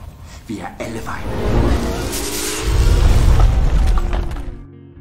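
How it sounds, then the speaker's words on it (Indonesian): A computer explodes loudly: a heavy, rumbling boom swells and lingers with crackling debris, then fades out. "komputer itu benar-benar meledak dan akhirnya hancur"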